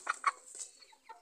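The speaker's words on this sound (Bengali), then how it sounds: "চারটে পোষা মুরগি" Four pet chickens cluck nearby in a quick run of short, bright calls, two sharp clucks followed by softer murmuring ones, with no talking.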